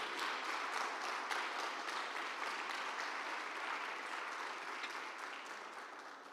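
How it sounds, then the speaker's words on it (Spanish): A church congregation applauding during a Sunday service, a sustained, fairly even roar of many clapping hands, heard at a moderate distance and fading slightly toward the end. "Denle un fuerte aplauso al Señor"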